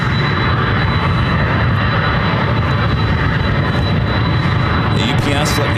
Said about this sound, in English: A UPS 767 and a FedEx 757 heading to 26 right.